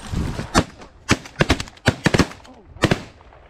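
Shotgun blasts ring out in a fast, loud volley at Canada geese flying overhead during a goose hunt, roughly a dozen close, sharp reports bunched in rapid clusters over a few seconds.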